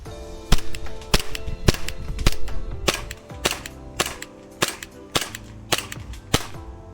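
A Glock 45 airsoft gas blowback pistol fires about a dozen sharp, loud cracks at uneven intervals, each with a snappy mechanical clack of the slide.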